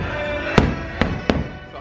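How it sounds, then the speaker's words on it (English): Fireworks bursting at a Disney park during the Happily Ever After show, three sharp booms spaced about half a second apart over a steady crowd murmur, fairly distant. "Fireworks are kicking off soon."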